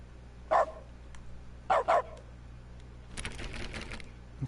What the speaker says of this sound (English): I wonder if the narrator's gonna notice I'm barking.